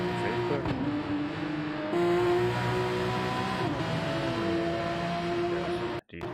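A Porsche race car engine in the video game GTRC at Le Mans drones and revs continuously with shifting pitch, loud and steady, briefly cutting out near the end, while a voice talks over it.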